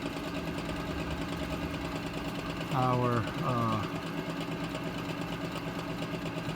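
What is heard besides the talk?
gas furnace power vent motor running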